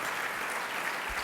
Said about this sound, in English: please join me in once again applauding John McCain, the recipient of this year's Chairman's Award.